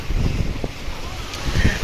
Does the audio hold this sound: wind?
yes